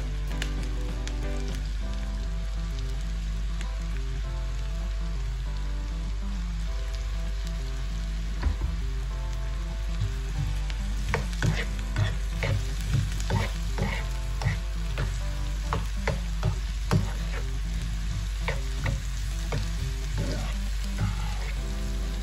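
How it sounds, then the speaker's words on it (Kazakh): Eggplant and onions frying in a pan for shakshuka, a steady close sizzle running throughout with scraping stir strokes and clicks from about eleven seconds on, no talking. "Мінекей жақсылап қуырып алды баклажанның пиязымызды"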